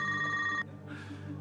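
A telephone rings with a bright electronic bell trill that cuts off abruptly partway through, leaving a lower background murmur.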